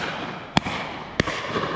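Two sharp, sudden shotgun shots crack out at a pheasant during a Devon pheasant shoot, spaced a little over half a second apart against a quiet outdoor background.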